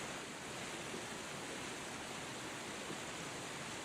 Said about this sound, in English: So I might also just use this other waterfall clip, which I have as well, which is a bit more